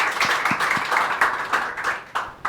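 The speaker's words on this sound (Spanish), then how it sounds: "Un aplauso, por favor" Brief, fairly thin applause from an audience at a panel discussion on justice in Chile, a few scattered claps rising into a short burst that tapers off within seconds.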